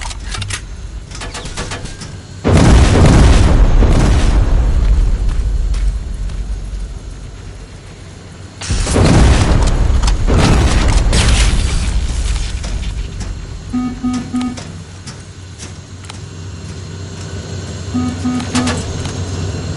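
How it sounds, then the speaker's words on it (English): Two huge, roaring rocket explosions in Terminator Resistance, each a sudden loud blast rolling into a long rumbling decay, separated by a few seconds of quieter combat ambience with faint beeping tones. "Rockets!"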